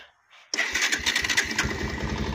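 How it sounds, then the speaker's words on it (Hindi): A Bajaj Pulsar 150 motorcycle starts with a brief starter whine, then the single-cylinder engine catches and settles into a close, steady, rapidly pulsing idle exhaust note. "अब मैं आपको इसका एग्जॉस्ट नोट सुनाता हूँ कि बजाज की पल्सर की एग्जॉस्ट नोट कैसा होता है"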